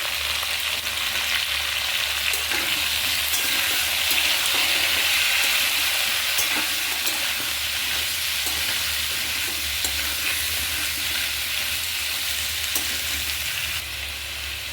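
Chopped vegetables frying in a pan with salt and turmeric for a vegetarian curry, a dense steady sizzle with occasional stirring scrapes, close and unbroken, no voices.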